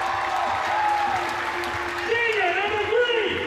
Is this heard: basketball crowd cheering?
yes